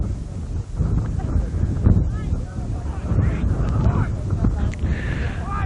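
Chilly gusty wind buffets the microphone at an outdoor rugby game, a constant rough roar under a commentator's talk.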